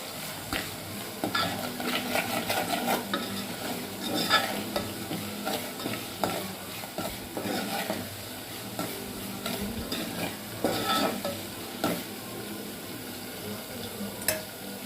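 A coconut curry is stirred steadily in a frying pan for the whole stretch, with scraping and a soft sizzle running continuously and no one speaking.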